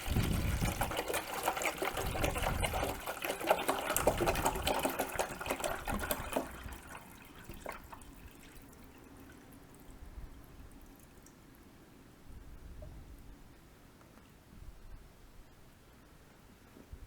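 Water pours steadily into an Aerogarden hydroponic reservoir, a loud rushing fill for several seconds that then drops to a quieter trickle and faint dribbles near the end.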